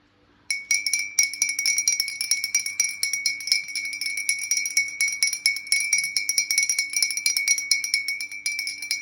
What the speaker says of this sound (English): I'm going to cleanse with the gnome, the antique gnome bell.